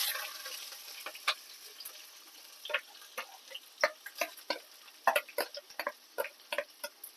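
An onion fries in oil in a kitchen pan. A steady soft hiss runs underneath, with sharp spatula taps and stirring clicks coming irregularly and growing busier toward the end.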